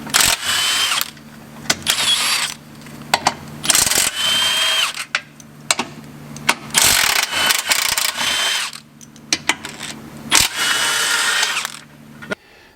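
Power tool zipping out the four 16mm bolts on a structural support member of a Chrysler 3.2/3.6 Pentastar front-wheel-drive engine, loud repeated bursts of whirring and ratcheting separated by short pauses, with no talking.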